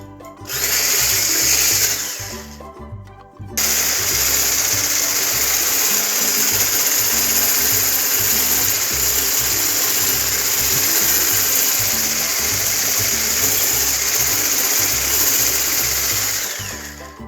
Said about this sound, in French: nous allons fouetter le tout à l'aide d'un mixeur pendant quelques instants